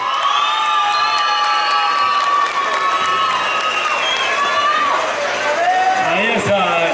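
Crowd at a bull riding contest, a rodeo-style bull tournament in Mexico, cheers, whoops and applauds steadily at close range, with shouts and a voice talking over the noise.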